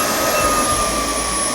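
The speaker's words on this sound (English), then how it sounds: "Self-cleaning is starting, followed by quiet drying." A Roborock F25 wet and dry vacuum running its self-cleaning cycle, a loud, steady motor whine with a high tonal hum, close and continuous with no voices.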